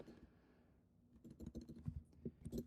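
Typing on a computer keyboard, heard as a quick patter of close, quiet key clicks. The clicks pick up after a short pause and come in an uneven run with no talk.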